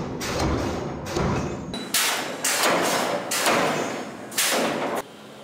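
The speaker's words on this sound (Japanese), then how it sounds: "鉄などの材料を加熱し、特殊なハンマーで1500トンの力を加えます。" Heavy forging hammer applying 1500 tons of force to heated iron or steel stock while forging vehicle and machine shafts in a factory, several loud, booming impacts at roughly even intervals with ringing metallic decay between strikes.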